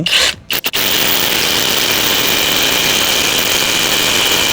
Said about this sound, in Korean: 방향을 보고 내가 원하는 곳에 14mm를 뚫습니다